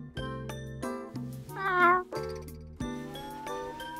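A cat meows once, a rising and falling drawn-out cry, in a room where a bright tinkling, chiming melody plays loudly throughout.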